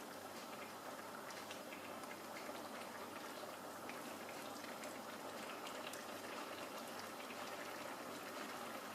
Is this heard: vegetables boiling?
yes